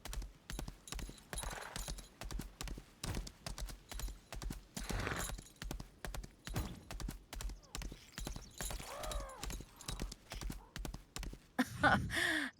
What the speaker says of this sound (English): Alright, let's go get those horses.